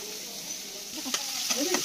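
Onions frying in a pan, a steady close sizzle with a few sharp stirring scrapes toward the end.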